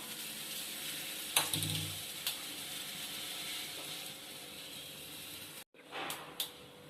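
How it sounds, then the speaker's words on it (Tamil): A kitchen gas stove being lit for chicken biryani: a sharp click and whoosh of flame igniting, followed by a steady broadband hiss of burning gas, then a brief cutoff and a second fainter click and flare near the end. "இப்போ ஸ்டவ்வை பற்ற வச்சிடலாம்"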